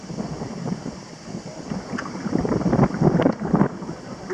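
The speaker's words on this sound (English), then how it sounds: "Pretty good wind picking up here." Steady wind gusting across open water on Clear Lake from a canoe, buffeting the microphone with a rushing, rumbling roar that swells toward the end, with faint water sounds beneath.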